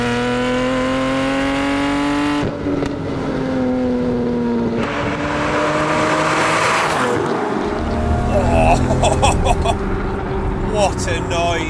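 A manual Lamborghini Murcielago supercar V12 engine roars loud and close, climbing through revs with gear changes and shifting pitch, then falling back with crackles and pops over a steady rumble.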